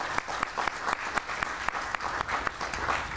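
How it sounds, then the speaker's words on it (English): A ground-breaking crowd at the Damen Green Line station claps in steady, moderate applause, individual claps distinct and fairly close, with no voices over it. "let's give him a round of applause"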